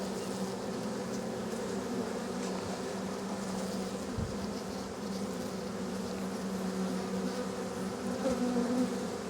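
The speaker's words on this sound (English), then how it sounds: "These bees have a lot going on right now." Honey bees at an open hive fighting off robber bees, a steady, dense buzzing hum of many insects close by, continuous throughout with brief individual buzzes passing, no talk.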